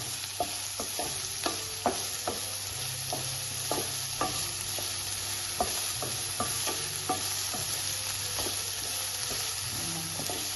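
Onions and tomatoes sauté in a pan for a breakfast curry, with a steady sizzle and frying hiss under repeated sharp spoon scrapes and stirring taps against the pan, close up with no talking.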